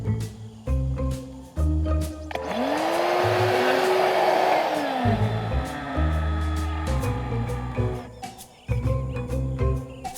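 A shop vac roars to life while sucking up a cluster of caterpillars outdoors, its motor whine rising and then dropping away after a few seconds, framed by chirping birds before and after.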